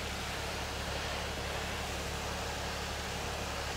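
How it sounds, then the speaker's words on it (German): A tractor engine idles steadily in Farming Simulator 17, a continuous broadband rumble and hiss held at an even, moderate level with no talk over it. "der Motor lasse ich laufen, damit er nicht absäuft"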